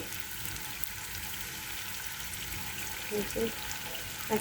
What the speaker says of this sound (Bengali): রোস্টের মশলাটা আমি এই যে ভাজা ভাজা করে নিছি